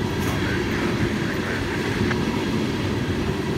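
An FEC freight train, train 103, more than 9,000 feet long, rolls past at Stuart with a steady low rumble and wheel noise close by. No one speaks.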